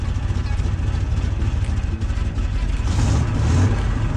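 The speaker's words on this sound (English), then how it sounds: "listen to that camshaft" A 1966 Oldsmobile Toronado with a stock camshaft revs with a loud, lumpy low rumble that swells toward the end, with voices faintly mixed in.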